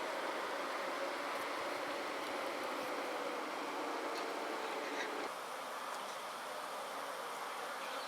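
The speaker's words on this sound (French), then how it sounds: "Et elles continuent toujours à ventiler fortement." Honeybees at a hive fanning strongly, a steady dense buzzing drone that fills the whole clip at moderate level, with no talk.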